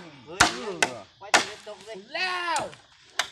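A few sharp, close hammer blows on nails while a house is built, spaced unevenly, with people talking between the strikes.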